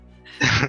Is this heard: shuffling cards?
no